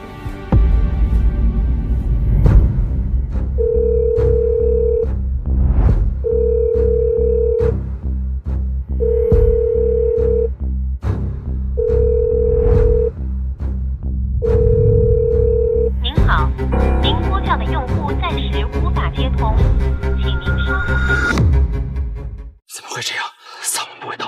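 A telephone ringback tone sounds five times in a steady rhythm of evenly spaced beeps during an outgoing call, heard under ongoing dramatic background music, before the music swells and the call cuts off.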